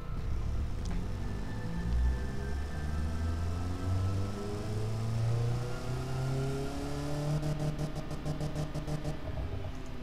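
A four-cylinder economy engine in the Automation game drones and revs, its pitch rising and falling in smooth sweeps beneath a constant rumble, with a brief rattling flutter near the end.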